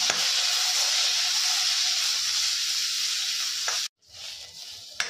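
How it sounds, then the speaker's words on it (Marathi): Garlic, onion-garlic masala and coconut sauté in a pan with a loud, steady sizzle and hiss, broken by a brief pause near the end before the frying resumes more softly. "आणि हेही आता आपण परतून घेणार आहोत।"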